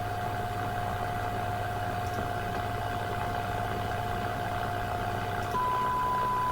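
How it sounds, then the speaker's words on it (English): A signal generator tone comes through a Concerto AM/FM vacuum tube radio as a steady pure whistle over a background hum and hiss, then jumps abruptly to a higher pitch near the end. "there's my signal generator"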